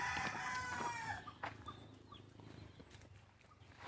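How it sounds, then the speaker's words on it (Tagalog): Rhode Island Red chickens cluck and a rooster crows nearby, followed by scattered softer clucks over a quiet farmyard background. "yung mga alaga ko ditong manok, karamihan dito puro mga Rhode Island"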